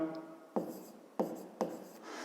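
A pen writes on paper in three short close scratching strokes, each starting with a sharp tap, in a quiet room.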